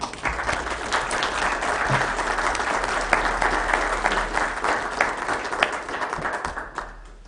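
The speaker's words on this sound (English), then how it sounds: "Let's give Kelly a round of applause." An audience at a county meeting breaks into sustained applause, a dense, even wash of many hands clapping that holds steady for several seconds before tapering off.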